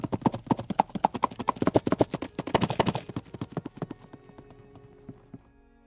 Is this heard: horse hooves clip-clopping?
yes